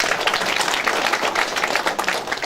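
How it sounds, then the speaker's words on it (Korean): Sustained audience applause at a county New Year online town-hall debate forum, dense steady clapping from many hands filling the room for a few seconds with no voices over it. "큰 박수 부탁드립니다"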